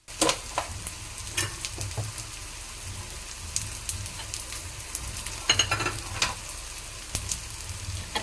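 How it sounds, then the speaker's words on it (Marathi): Onion and tomato fry in hot oil with a steady close sizzle, broken by repeated scraping stirs of a spoon against the pan, with no talk. "कांदा तेलात टमाटा भाजला"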